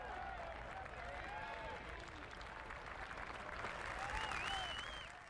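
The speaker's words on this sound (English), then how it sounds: "The leader gets a warm reception from the crowd as he approaches the final green" A golf crowd applauds warmly as the tournament leader walks up to the final green, sustained clapping spread across a large gallery, with a commentator's voice faintly underneath.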